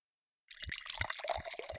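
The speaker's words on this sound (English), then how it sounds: "Time to rinse. Close your eyes real tight, Margaret." In the Daniel Tiger's Neighborhood bath time game, after a brief silence, rinse water suddenly pours and splashes in a steady close rush, with gurgling and dripping textures.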